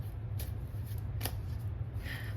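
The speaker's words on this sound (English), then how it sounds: "So let me shuffle some more." Tarot cards are shuffled in the hands in steady riffling bursts, close and soft, over a low background hum, with no talking.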